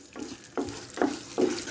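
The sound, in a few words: cumin and urad dal frying in hot oil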